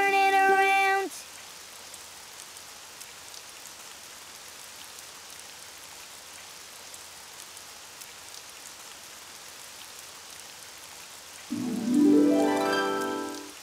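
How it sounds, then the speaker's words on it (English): Steady soft rain hiss in a Daniel Tiger children's video game, a continuous even patter that runs under brief musical tones at the start and end. "Oh, it's raining outside."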